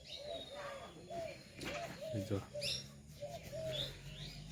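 Sparrows chirp in short, bright bursts around a village setting, several calls scattered close by over a low outdoor background, with a voice speaking briefly among them.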